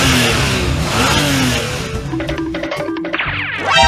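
Car engine revving in the video game Indian Bike Driving 3D, a loud buzzy drone that thins into choppy engine tones and ends in a rising sweep.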